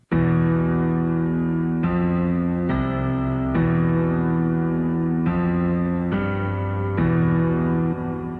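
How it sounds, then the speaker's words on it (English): Sustained piano chords from a Ravencroft piano in a trap beat, held tones changing every second or so, loud and alone with no voices. "And now finally we'll hear the main part of the chords here from the Ravencroft piano."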